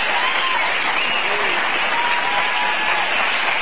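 A studio audience at a live morning talk show cheers and applauds, a dense, loud, unbroken roar of clapping with scattered shouts layered through it.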